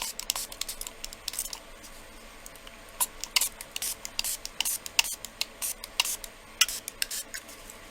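Rapid short hissing bursts from a spray bottle of 91% alcohol misted over polymer clay earrings, an irregular series of close, crisp sprays that grows busier after the first few seconds, with no speech.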